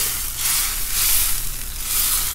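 Adobo-style stew with tofu being stirred in a pan over the flame, a steady loud sizzle with broad hissing swells every second or so as the spoon moves the food, no talking.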